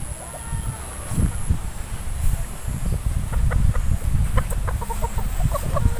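Punkan Sweater gamefowl chickens cluck in a yard, a series of short, fairly close calls that grow busier toward the end over low background noise and thumps.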